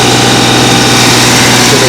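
A tractor engine idles high at about 2,500 RPM in a driveway during a regen cycle, a steady loud droning hum with constant vibration throughout.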